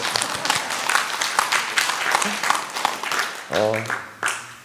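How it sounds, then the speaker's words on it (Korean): Congregation applauding in a church during a worship service, a dense wash of clapping from many hands at medium distance, tapering off near the end as a voice briefly speaks. "이러면 원래 박수가 나와야 되지 않나요?"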